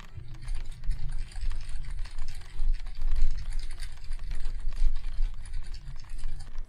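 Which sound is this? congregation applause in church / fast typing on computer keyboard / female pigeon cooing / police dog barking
fast typing on computer keyboard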